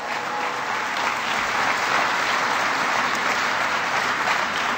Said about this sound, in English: Give Tom Vilsack a big round of applause.